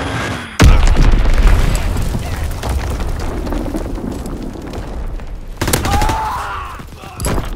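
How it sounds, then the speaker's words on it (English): Enemy bombs exploding in an Xbox One shooter game: a loud booming blast hits early, followed by a long rumbling roar and crackling debris, with a second burst near the end. "Enemy bomb incoming! Get to cover!"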